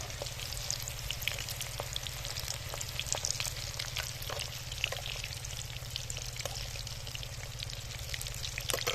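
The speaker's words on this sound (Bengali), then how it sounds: "শাটেগুলো বেশ লাল লাল করে সুন্দর করে ভেজে নিতে হবে।" Chicken satay fries in oil over a low flame, a constant soft crackling sizzle peppered with tiny pops, heard close under a low steady hum.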